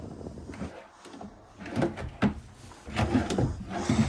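Several wooden drawers in a 2026 Montana High Country 377FL fifth-wheel RV slide open and shut in turn, with soft thumps and scraping, close by in a quiet room.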